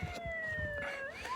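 A siren wail from a passing ambulance, a steady tone that dips and then rises over faint background noise.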